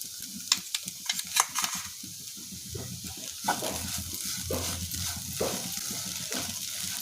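Snake gourd fry is stirred in a pan with a paste of fresh coconut, green chili and ginger, giving soft sizzling with scraping and clinking spoon strokes at an uneven pace, up close.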